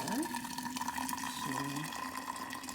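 Hot water pours steadily into a glass jar holding tea leaves, a continuous splashing fill that rises slightly in pitch, with a faint background hum.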